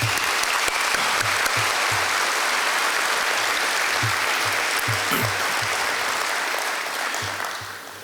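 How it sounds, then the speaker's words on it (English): A baseball banquet audience gives the players a round of applause, a dense burst of clapping with a few low thumps, steady before fading out at the end. "So let's give our players a big round of applause"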